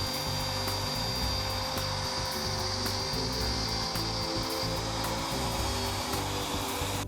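Router lowered a quarter inch per pass while cutting 1-inch-deep mortises into wooden table legs, a steady loud high whine with no pauses and faint fluttering cutting noise underneath.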